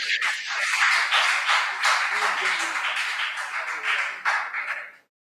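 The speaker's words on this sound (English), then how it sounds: "Please, a round of applause for them." A school audience applauds a junior high quiz team after a round's scores, dense clapping sustained for about five seconds and then cutting off abruptly.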